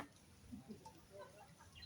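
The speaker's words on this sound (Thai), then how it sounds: "โอ้ไก่ทางนี้" A chicken clucks softly at a Buddhist temple, a few faint, short clucks scattered over quiet outdoor background noise.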